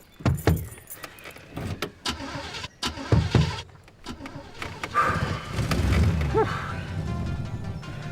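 A car engine cranks and catches after a jangle of keys and a few clicks, then settles into a steady idle, close and fairly loud.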